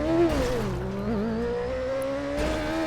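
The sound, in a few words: motorcycle riding in GTA video game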